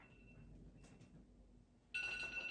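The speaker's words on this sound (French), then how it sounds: "ceux qui viennent en guidance chez moi connaissent cette sonnerie" A phone ringtone played on purpose, a faint thin tone at first, then a loud bright electronic ring that starts abruptly near the end. It sounds indoors, with no speech over it.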